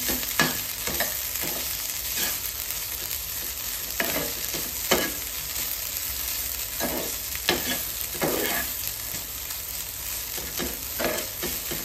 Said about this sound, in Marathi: हे जे खोबऱ्याचं किस आहे ते चांगलं असं मिक्स करून घ्यायचं आहे।